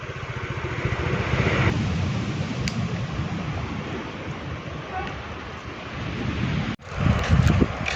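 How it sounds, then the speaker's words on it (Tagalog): Strong waves crash and wind roars along the coast at Taimali in Taiwan during a typhoon landfall, a loud continuous wash of surf and gusty wind buffeting the microphone. "At napakalakas po ng alon dito po sa amin sa Taymali."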